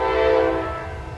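Train horn sounding loud and near at the historic depot crossing in Wauseon, Ohio, a sustained blast with rumbling rail noise underneath that holds steady, then slowly fades as the train passes.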